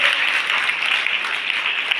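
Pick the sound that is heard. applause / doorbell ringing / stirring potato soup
applause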